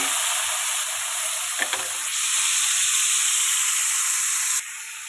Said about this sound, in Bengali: মাছটা সুন্দর করে ভেজে নেব।